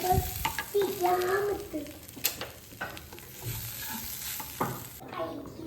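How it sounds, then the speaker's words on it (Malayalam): Masala for paneer butter masala stirred in a pan on the stove, with repeated scraping strokes and a soft sizzle underneath; a voice hums or talks faintly partway through, close and moderately loud. "നല്ല ഇളക്കി കൊടുത്തിട്ടുണ്ട് നമ്മൾ."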